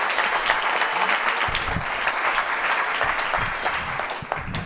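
Audience applause fills a stand-up comedy club after a comedy trick with a huge meat cleaver, steady dense clapping throughout, with a few low thumps and faint voices mixed in.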